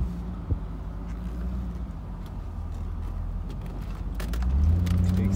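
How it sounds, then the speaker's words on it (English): A 2002 Chevrolet Camaro SS cruises along with a steady low engine and road rumble from inside the car. The drone swells slightly toward the end, and a faint click or two can be heard along the way. "let's take the Camaro for a spin"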